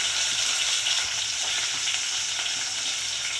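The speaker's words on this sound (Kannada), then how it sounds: "ಟೊಮಾಟೊ ಈರುಳ್ಳಿ ಟೊಮೊಟೊ ಅವರೆಕಾಳು ಫ್ರೈ ಮಾಡ್ತಾಯಿದ್ದೀನಿ" Onions, tomatoes and field beans fry in a pan for a pulav, giving a steady close sizzle with faint stirring scrapes and no voices.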